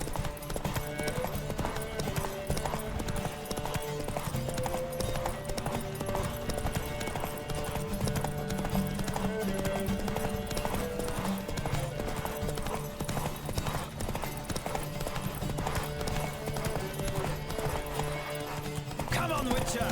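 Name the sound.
horses galloping in video game Witcher 3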